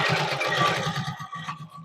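A zigzag sewing machine stitching fabric in a rapid, regular run of mechanical thumps, close and fairly loud, with a brief slowdown partway through before the even stitching rhythm resumes, with no talking.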